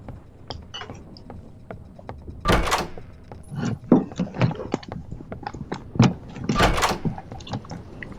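A door opens in the Roblox horror game Doors, heard as two loud, sharp broadband thumps, one early and one late, among scattered clicks and footsteps.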